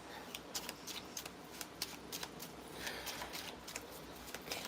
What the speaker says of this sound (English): Let's give these a nice big shuffle again.